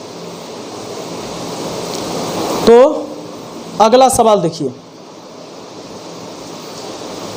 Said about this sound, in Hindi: यहाँ बारिश हो रही है तो छत से पानी इधर चू रहा है।